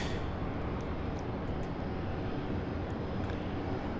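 A UPS Boeing 767 heavy freighter comes in to land at Louisville, its engines giving a continuous, broad jet roar with a deep low rumble that stays loud and steady throughout.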